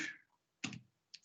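A few separate clicks of keys struck on a computer keyboard while entering an SSH command, heard alone in short quick bursts with brief pauses between them.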